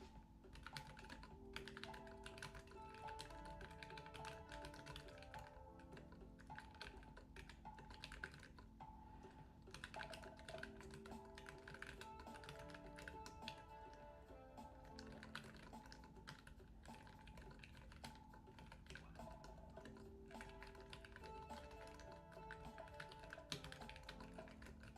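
Clicky mechanical switches clatter on a Nomad keyboard during steady, fast typing, a dense run of sharp key taps and clacks heard up close, quiet overall and without speech.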